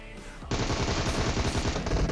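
A sudden, loud burst of rapid automatic gunfire from the PUBG Mobile shooter game erupts and keeps rattling without a break for about two seconds.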